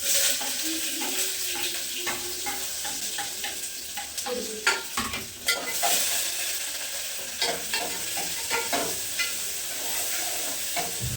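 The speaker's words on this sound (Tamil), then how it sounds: "வெங்காயம், கருவேப்பிலை, பச்சை மிளகாய் இது எல்லாமே போட்டு ஃப்ரை பண்ணிக்குவோம்" Chana dal, urad dal, onion, curry leaves and green chili fry in hot oil with a steady sizzle, while a spoon scrapes and stirs the pan in irregular clinks and knocks.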